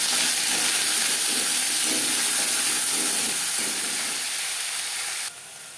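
Ginger paste and green chilli paste hit hot oil with bay leaf and five-spice in a pan, giving a loud, continuous hiss that fades suddenly near the end; no voices.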